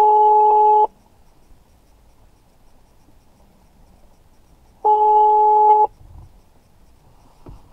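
A phone call rings through a T821 Bluetooth hands-free car speaker kit retrofitted into a BMW E46 sun visor: two loud, steady tonal ring bursts about four seconds apart, with quiet cabin background between.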